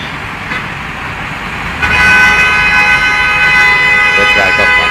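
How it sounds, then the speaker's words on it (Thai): Vehicle horns honk in street traffic in Sierra Leone, a loud sustained tone rising abruptly partway through over a busy background of engines and road noise. "ต้องใช้แตรเป็นอุปกรณ์สำคัญในการบอกทาง"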